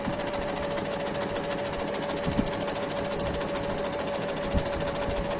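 A sewing machine runs steadily while stitching a baby frock, its even motor whir and needle chatter continuous and close, with a faint tonal hum and a couple of small knocks.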